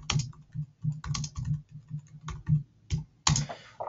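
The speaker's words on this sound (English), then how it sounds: "Let's type it in this box here." Close, crisp computer keyboard typing of a text message, irregular bursts of key clicks with short pauses and a louder stroke near the end, no talking.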